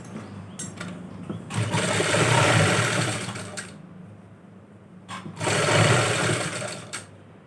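A sewing machine runs a rough stitch along a neckline in two bursts of fast, buzzing mechanical stitching, close and loud, separated by a brief pause with small clicks of handling.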